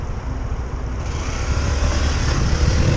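A Honda PCX 125 scooter accelerates in a drag race, its engine a steady rising drone with road rumble that grows slightly louder across three seconds.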